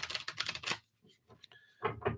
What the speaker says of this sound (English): It's always good when you try to shuffle around cards and they don't go everywhere.